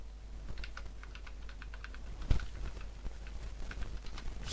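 Someone types on a computer keyboard in short, uneven bursts of clicky keystrokes with brief pauses, close and fairly quiet, ending in a single louder key hit; no one speaks.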